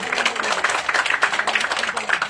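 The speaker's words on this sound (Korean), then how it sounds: "박수 한번 부탁드리겠습니다" Audience applause at the opening ceremony of a park golf course in Yeonsan-myeon, Nonsan, South Chungcheong; steady dense clapping fills the whole stretch, fairly close, with a faint voice underneath.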